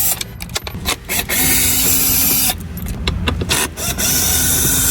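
A power drill fitted with a T15 hex star bit backs out screws on a Cadillac Escalade CUE touchscreen, with short whirring bursts separated by pauses and one longer run, close and loud.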